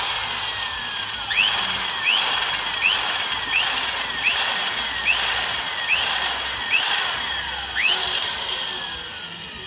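A drill bores a 5.0 mm hole in a motor cylinder head to repair stripped threads, whining steadily with rhythmic squealing bites about every second as the bit cuts metal.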